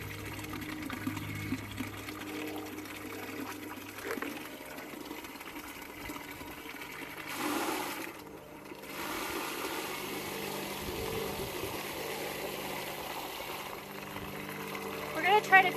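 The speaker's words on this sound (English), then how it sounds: "And now I'm ready to fill the whole container." Water runs from a tap into a chicken water container at a ranch, a soft, continuous trickle and gurgle under quiet talking, swelling briefly partway through as the flow changes.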